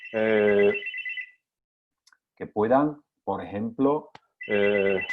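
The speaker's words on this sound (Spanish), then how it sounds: "perdón, que es que me está sonando el teléfono y no lo corto" A telephone rings in a room during an online talk, its electronic trill sounding loud and close at the start and again at the end, with a person speaking in the gap between rings.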